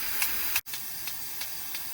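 A garden sprinkler on a newly set spray pattern hisses steadily with faint rhythmic pulses as it sprays water, a brief dropout midway, no talk.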